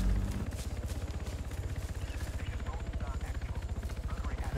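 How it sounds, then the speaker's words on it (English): A helicopter passes overhead in the ArmA 3 video game, its rotor beating in a fast, steady, pulsing chop throughout, loud and close, with players talking over it. "Helicopter sounds like it's overhead."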